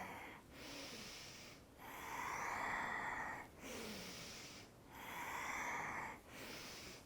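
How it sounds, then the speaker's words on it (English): Deep, slow breathing during a grounding yoga practice, with long audible inhales and exhales alternating in a steady rhythm, close and breathy, no talking. "You should be able to hear yourself breathing."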